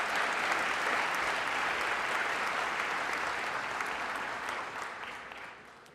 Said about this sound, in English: please join me in a final round of applause